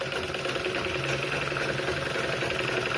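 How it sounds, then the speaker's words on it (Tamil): Domestic sewing machine running steadily while stitching the front seam of a blouse, a continuous close whirring motor hum with faint mechanical chatter and no talk. "ஒன்று போல் வச்சுக்கிட்டு தையல் போடுங்க"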